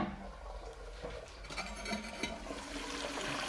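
A newly installed household toilet refilling after a flush, water rushing and trickling steadily into the tank at moderate volume, with a broadband hiss that swells slightly midway and continues without pause.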